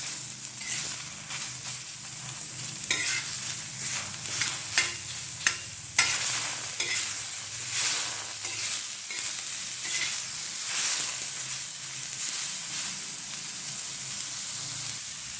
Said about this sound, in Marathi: आणि त्यामध्येच आपण हा टोमॅटोसुद्धा भाजून घेणार आहोत.